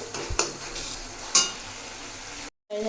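Chicken masala sizzling in oil in a pan, a steady frying hiss broken by a few sharp scrapes and clinks of a spatula against the pan, then a brief silence before the sizzle returns.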